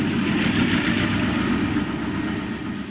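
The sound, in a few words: Gettysburg Railroad train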